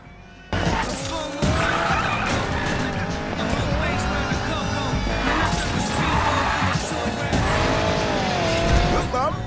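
A car drifts in the Need for Speed video game, tires squealing in long sweeping bursts over a revving race engine, loud and continuous, with a voice talking over it.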